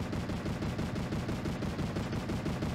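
A Fortnite turret keeps up sustained automatic fire, a dense, even stream of rattling shots lasting a few seconds, loud and near with no voices.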